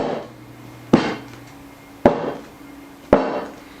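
Mini bundt cake pans filled with key lime pound cake batter are knocked against a hard surface three times, each a sharp close knock about a second apart with short ringing decays and no talk.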